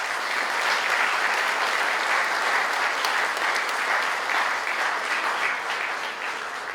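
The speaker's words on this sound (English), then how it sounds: "Graduates, I think you owe all these people a round of applause." Sustained audience applause fills a graduation ceremony hall, steady and dense throughout, a broad even wash of many hands clapping at once with no break or voice over it.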